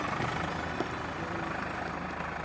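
A tractor ploughing farm fields in the Jali area runs steadily nearby, its low engine drone continuous and even throughout with no talk.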